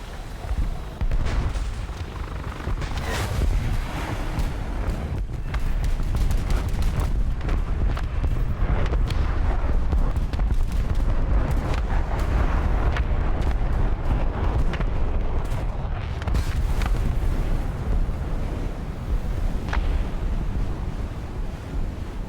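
Bombs dropped from an F-111A in War Thunder explode as a long, dense roar of rumbling blasts and wind-like rushing noise, loud and sustained for many seconds.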